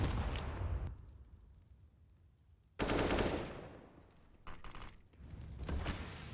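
Counter-Strike: Global Offensive match on Inferno: loud bursts of automatic rifle gunfire, one at the start and another around the middle, then further shots and a trailing rattle, with quieter gaps between the volleys.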